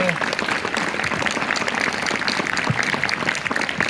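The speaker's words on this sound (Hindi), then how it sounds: "लेकिन तालियां तो बड़ी होनी चाहिए" An audience claps for a young girl's singing at a Constitution Day celebration at an institute in Dehradun, steady dense applause throughout with a voice speaking over it.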